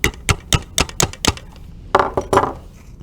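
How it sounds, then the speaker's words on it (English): A hammer taps a cart wheel onto its axle in a quick series of sharp, close knocks, six regular strikes, a pause, then a few duller hits. "Let me get a hammer."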